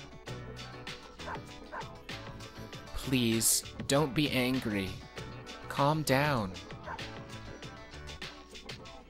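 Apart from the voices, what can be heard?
dog barking in video game Persona 3 FES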